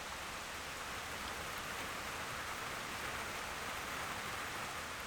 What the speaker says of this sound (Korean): 먹구름이 몰려들면 비가 내리기 마련이죠.